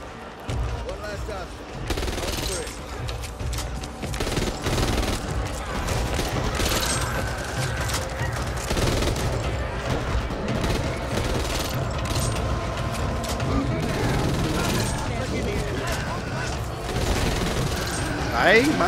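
Gunfire and explosions in the zombie shooter video game Back 4 Blood: dense, continuous bursts of rapid shots with occasional booms, loud and close throughout, while someone talks over the action.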